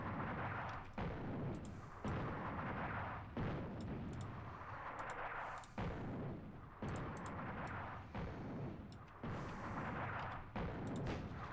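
Artillery fire in the World War II North Africa strategy game Attack at Dawn: North Africa: repeated heavy booming shots land every second or so, each followed by a rumbling decay, a steady barrage heard alone without talk.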